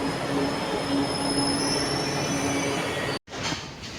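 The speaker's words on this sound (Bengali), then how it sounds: "এবার যে ট্রেনটা আসবে সেটাই যাবো তো।" A metro train rolls along with a sustained high metallic squeal from its wheels over a dense rumble, close and loud, then cuts off abruptly near the end before the rumble resumes.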